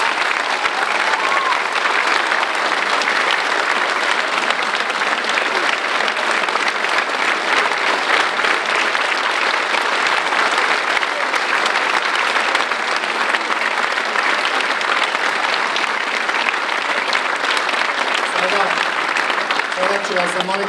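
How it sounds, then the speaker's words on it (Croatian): Loud, sustained applause from an audience at an award ceremony, dense clapping that holds steady for the whole stretch with crowd murmur mixed in. "Molim vas još jedan veliki aplauz."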